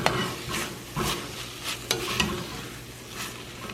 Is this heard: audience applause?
no